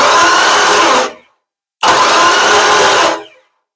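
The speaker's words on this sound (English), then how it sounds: "let's just check the starter motor again" A Ford Cortina Mk1 GT starter motor cranks in two loud, close bursts of harsh whirring, each lasting about a second, separated by a short silence.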